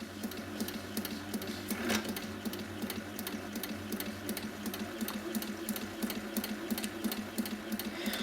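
An HQ Sweet Sixteen quilting machine runs slowly, its needle piercing holes around lettering to make a stencil, a steady fast mechanical clatter of regular needle strokes with a low motor hum underneath, no voices.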